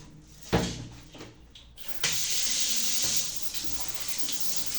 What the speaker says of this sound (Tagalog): Mag-shower na si Charlie.